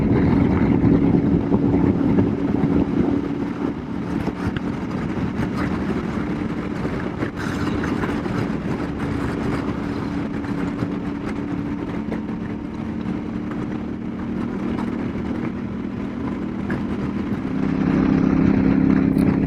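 Royal Enfield Super Meteor cruiser with a belt drive and YSS rear suspension, heard while riding: a steady, fairly loud engine drone with wind rush, holding even throughout and swelling slightly near the end.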